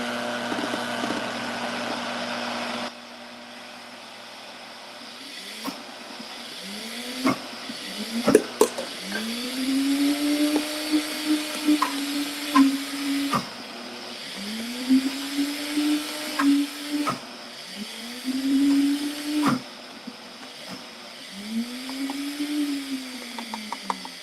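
A kitchen blender grinding almonds into almond butter, its motor whirring in repeated pulses that rise and fall in pitch, with clicks and knocks between runs and no talking.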